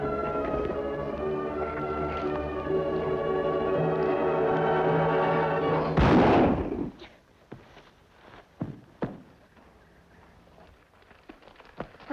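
A single sharp gunshot cracks out of a sustained musical backdrop in an old western scene, followed by scattered clopping and rustling sounds in the near quiet.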